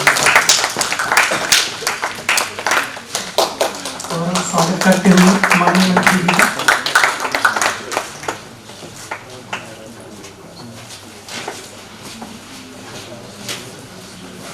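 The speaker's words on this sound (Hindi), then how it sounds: "जोरदार तालियां बच्चों।" Children applauding the chief guest, a minister, at a Khelo India workshop in Delhi: a loud, dense burst of clapping for several seconds that thins out, with an announcer speaking over it.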